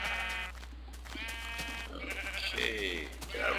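Sheep bleating in the Minecraft 1.2.5 video game, several repeated game bleats in quick succession, close and fairly loud over a steady low hum.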